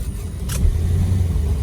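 A 1970 Dodge Dart drives along in second gear, its engine giving a low steady rumble that swells slightly midway, close and continuous with no talking.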